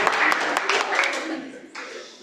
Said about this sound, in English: Let's clap him.